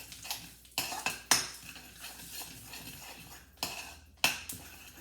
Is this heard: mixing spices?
yes